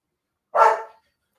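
A single sharp dog bark indoors, close and fairly loud, lasting under half a second and followed by silence.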